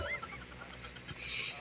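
A chicken clucks near a road on the way to a waterfall, a couple of short calls, fairly faint under a steady outdoor hum.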